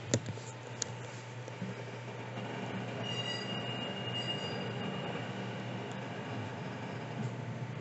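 Inside a train departing from a station, low steady rumble of the wheels and car body building gently, with faint squealing tones and a couple of early clicks, heard from a seat in the carriage.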